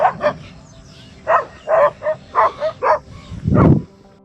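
A dog near a lakeside barks and yips in a quick series of repeated barks, ending in a louder, rougher bark over steady outdoor background noise.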